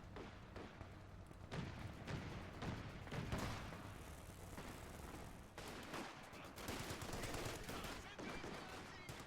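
Gunfire from a sniper and other weapons in the World War II strategy game Company of Heroes 2, rattling bursts and sharp repeated shots mixed with distant thuds across a busy battlefield.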